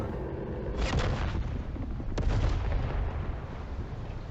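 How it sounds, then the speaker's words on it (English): Loud explosion in The Outer Worlds 2 video game, a heavy deep boom followed by a second sharp blast and a long rumbling tail with no talk over it. "Oh, that little explosion?"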